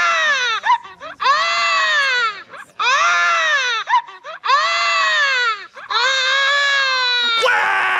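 Cartoon child screaming and crying from Family Guy, loud repeated wailing bursts with short gaps between them, close and dominant, ending in a sharper cry.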